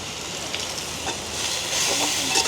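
Food frying in a covered pan, a muffled steady sizzle and hiss that swells slightly toward the end, with faint crackles beneath.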